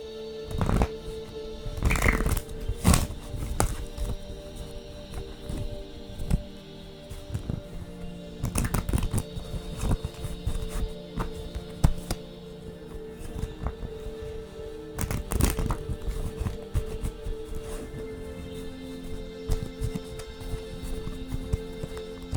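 Tarot cards shuffled by hand, with scattered close taps and riffles over a low, steady room hum and no one speaking.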